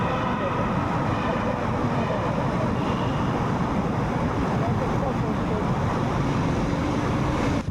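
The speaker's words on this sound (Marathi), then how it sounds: "समोर पूर्ण लाईट्स, भारी इको आणि GT 650चा आवाज म्हणजे नेक्स्ट लेवल फील भाई" A GT 650 motorcycle engine roars on a night ride through the Katraj tunnel on the Pune to Satara route, a constant dense rumble echoing off the tunnel walls with no breaks.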